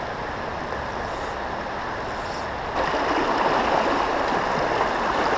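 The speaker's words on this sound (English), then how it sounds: "River's running pretty high right now, so the current is swifter than it usually is" A swift, high-running creek rushes in a steady, loud, broadband roar, the flow growing slightly louder partway through, with no voices.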